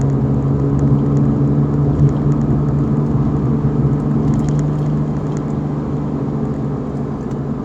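Inside a Porsche 911 of the 997 generation on rear tyres 295 wide, the engine holds a steady, loud hum and rumble while the car is driven along twisty roads, with faint road noise underneath.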